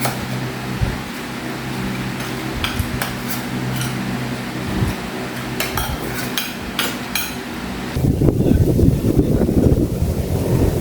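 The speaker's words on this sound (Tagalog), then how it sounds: "Ito po yung mahangin na araw." Strong wind buffets the microphone outdoors on a windy day, a constant roaring rush with scattered knocks and clanks, then growing heavier and louder gusts near the end; no talking.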